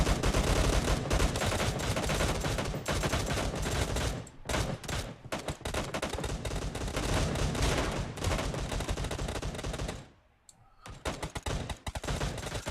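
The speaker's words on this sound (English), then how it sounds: "These people do like shooting at each other" Dense, sustained gunfire from a competitive video game scrim, with rapid overlapping shots and bursts that continue loudly, briefly drop out twice and then resume.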